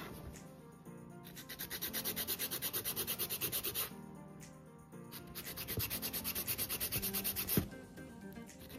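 A nail file rasps back and forth over an acrygel nail with pop-it nail art, making quick rhythmic scratching strokes in two close bursts separated by a short pause, with no talk.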